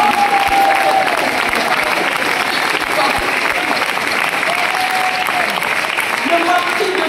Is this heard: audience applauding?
yes